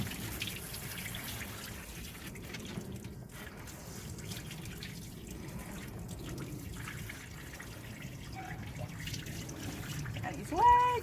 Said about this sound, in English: we're going to wash Samson's body